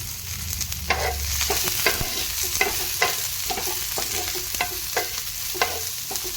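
Chillies and onion sizzling in a pan, with steady frying hiss and regular scraping clicks of a small spoon stirring, close and continuous.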